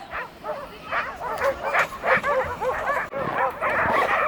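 Several sled dogs bark and yip together in a continuous, overlapping chorus in Yakutia, moderately close, with whining cries mixed among the barks.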